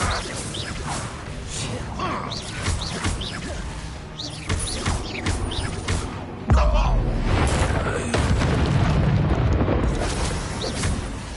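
Confringo, a fiery blast spell in Hogwarts Legacy, cast during combat with booming impacts and crackling bursts, one heavy hit near the middle followed by a rumbling tail, over battle noise and a voice.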